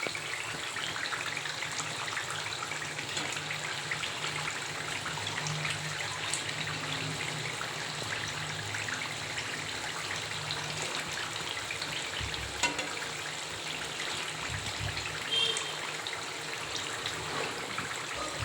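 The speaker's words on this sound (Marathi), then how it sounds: "इथे छान असा तेलाचा आवाज येत होता बुडबुड्यांचा चकली तळताना" Chakli fry in hot oil with a soft, continuous bubbling sizzle that stays low and even throughout, with no voices.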